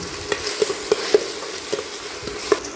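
Onion and tomato sautéing in a pan: a soft continuous sizzle broken by several sharp spatula taps and scrapes against the pan, close and fairly loud, no voices.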